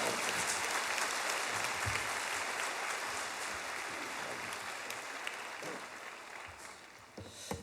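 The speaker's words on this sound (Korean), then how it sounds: "우리 이 교수님도 힘 얻어가지고 더 잘 감당할 수 있도록 우리 박수로 우리 박수로 환영하겠습니다." Sustained applause from a church congregation at a dawn revival service, dense and steady clapping that gradually thins toward the end.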